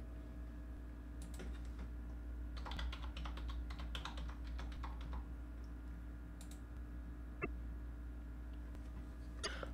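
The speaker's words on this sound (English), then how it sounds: "I'll type that into the Visual Thesaurus." Someone types on a computer keyboard in quick clustered keystrokes, close and fairly soft, over a steady low electrical hum.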